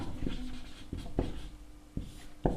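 Short scratchy strokes of handwriting as an answer to a Class 9 maths problem is written out, several brief pen-on-paper bursts in an irregular rhythm, close and fairly quiet, with no talking.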